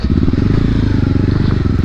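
A KTM RC and an Apache RR 310 sports motorcycle ride close and loud over rough offroad ground, their engines churning out a steady pulsing rumble with some clatter from the rough terrain.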